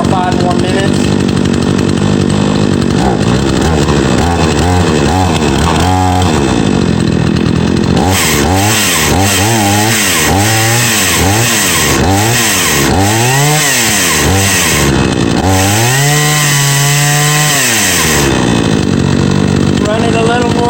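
A Craftsman 42cc 18-inch chainsaw, 2019 model, runs during break-in, idling and then revving up and down in repeated swelling bursts that rise to a sustained high whine before settling again. It is loud and close throughout.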